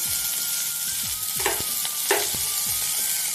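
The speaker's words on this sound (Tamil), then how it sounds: "ரெண்டுத்தையும் சேர்த்து நல்லா வறுத்து எடுத்துக்கோங்க கொஞ்சம் எண்ணெய் ஊற்றி இஞ்சி ஒரு துண்டு பிரண்டை நெல்லிக்காய்" Ginger, pirandai and gooseberries sizzle as they fry in a little oil, a steady close crackle broken by a few sharp stirring scrapes, with no talking.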